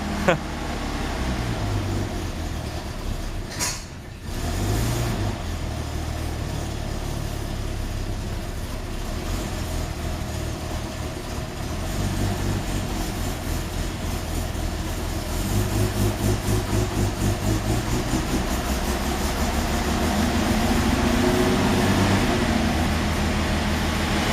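A Fiat 130 with a 3.2 litre V6 idling on fast idle gives a steady, smooth engine hum close by, growing slightly louder and more pulsing toward the end, with speech heard over it.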